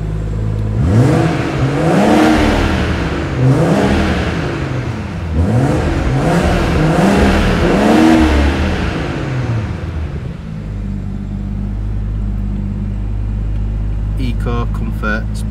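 BMW M140i engine revved repeatedly while stationary, about four rising-and-falling blips close and loud, then settling to a low idle hum before some clicks at the end.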